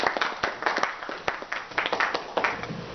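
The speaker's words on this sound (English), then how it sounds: "Please give her a big round of applause." An audience at a student workshop on stress and anxiety management applauds a student association president before her welcoming speech, with a dense, steady patter of many hands clapping at moderate volume and no voices.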